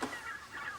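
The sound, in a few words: Bresse turkeys being fed by the farmer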